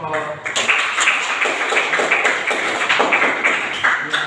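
Applause for a group at a school class presentation session, a burst of many hands clapping steadily and close by that keeps going throughout.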